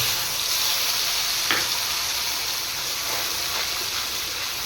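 A spice paste of mustard, ginger and onion frying in a pan, giving a loud, steady hiss and crackle with a sharp clatter near the start and softer stirring knocks later.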